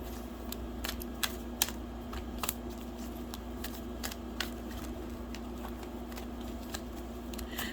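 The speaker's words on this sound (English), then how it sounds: "I shuffle until cards just come out as they may." Tarot cards are shuffled quietly and continuously, with soft repeated flicks and sharper card snaps at an irregular pace over a low steady room hum.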